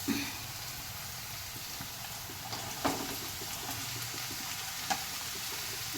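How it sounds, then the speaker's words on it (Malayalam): Ivy gourd is added to a hot pan on lowered flame for an egg thoran stir-fry, giving a soft, steady sizzling hiss with a few faint clicks and taps of stirring. "നമുക്ക് ഫ്ലെയിം ഒന്ന് കുറച്ചിട്ട് നമ്മുടെ കോവയ്ക്ക ഇട്ട് കൊടുക്കാം"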